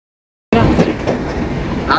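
Inside a train carriage on a trip to Ratnagiri, a loud steady rumble starts abruptly after a silent half second, with rattling and faint clicking over the continuous roar of the moving train.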